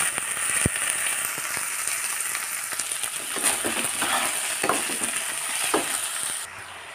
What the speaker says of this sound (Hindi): मैं पनीर को डाली हूँ, इसको हल्का सा घी में रोस्ट कर दूंगी